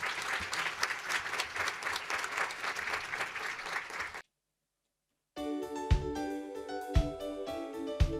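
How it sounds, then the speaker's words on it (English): An audience claps warmly for children's speeches at a children's world peace summit, a steady wash of applause that cuts to silence for about a second before music with sharp accents begins. "To all of them who delivered wonderful speeches, let's give a big round of applause again"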